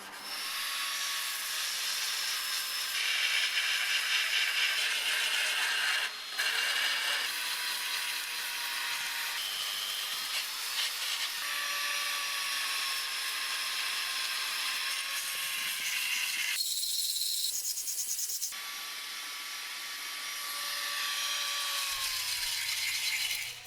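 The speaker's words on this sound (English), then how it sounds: "It's now just a case of grinding this down and trimming the top." Grinding down a welded repair on a Mercedes W123 windscreen frame, a continuous high metallic whine with shifting pitch, a short break partway through, then grinding resumes.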